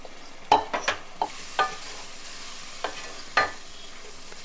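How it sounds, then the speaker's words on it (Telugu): Masala paste and tomato puree frying in hot oil in a home kitchen, with a few sharp sizzling spatters and stirring scrapes over a low background, fairly close and fading in and out. "ఇది కాసేపు ఆయిల్లో వేగనిద్దాం"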